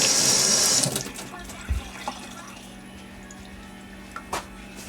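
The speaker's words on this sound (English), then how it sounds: "let me rinse my hands while I do this" A kitchen tap running as hands are rinsed, a loud steady gush of water that stops after about a second, followed by a few soft drips and knocks in a quiet room.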